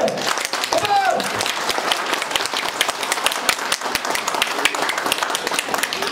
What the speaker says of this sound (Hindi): ताली तो चाहिए